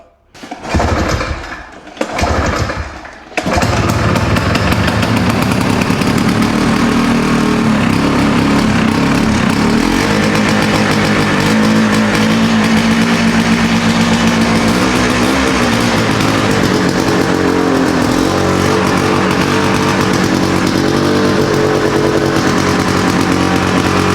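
An old two-stroke Ski-Doo snowmobile engine, about thirty years old, starts after a few short bursts and then runs steadily and loudly close by, a buzzing drone with no talk over it.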